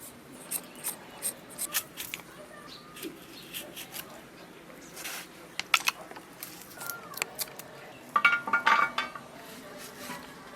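Potatoes peeled by hand with a knife in a rustic kitchen, giving scattered faint scraping clicks and small clinks at irregular intervals, with a brief busier cluster of sharper scrapes partway through.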